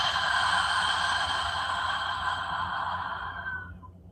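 A long, steady breath pushed out through an open mouth during a guided meditation breathing exercise, a soft airy rush that holds for several seconds and fades at the end, with no talking over it.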